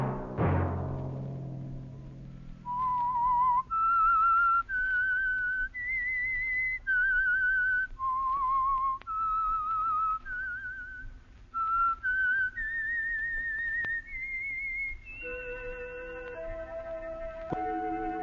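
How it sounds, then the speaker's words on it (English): A lone whistler carries the theme signal of The Whistler radio program, a clear, wavering melody of sustained notes that climbs and falls, following a soft piano chord at the start. "Let that whistle be your signal for the Signal Oil program, The Whistler"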